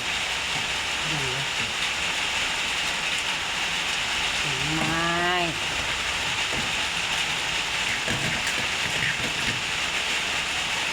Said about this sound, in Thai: มื้อนี้ฝนตกลิ้น